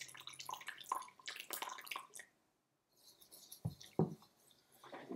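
Water is poured into whisked matcha paste in a bowl, a faint, close trickle and splash that stops briefly midway, then resumes with a few small drips and sloshes.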